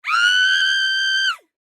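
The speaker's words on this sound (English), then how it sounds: "put in a used primal scream" A single sustained human scream used as a primal scream sound effect, loud and close, holding one harsh pitch for over a second before cutting off into silence.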